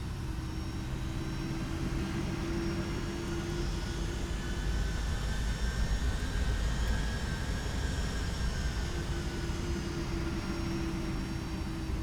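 A simulated Boeing 757 jet roars steadily through its takeoff run in X-Plane 11, a constant engine drone holding at moderate level throughout.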